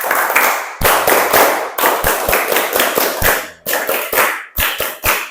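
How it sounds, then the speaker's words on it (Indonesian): A class of students performs the Indonesian 'tepuk konsentrasi' clapping game, loud close group claps in a brisk rhythmic pattern of repeated bursts with short pauses between phrases, no talking. "Tepuk konsentrasi."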